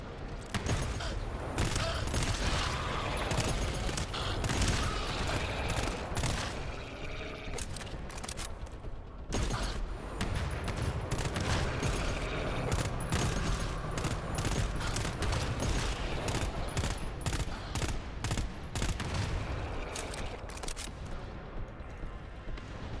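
Rapid SMG gunfire in the sci-fi shooter GTFO rattles almost continuously in dense, loud bursts with a brief pause partway through, close and dominating, with booming impacts mixed in.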